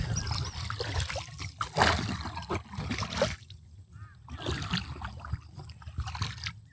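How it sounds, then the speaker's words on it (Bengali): Water sloshing and trickling as a small bhura raft is poled along a river at a village on the India–Bangladesh border, with irregular splashes close by and voices now and then. "দেখেন ছোটো ভাই ভুরা চালাচ্ছে"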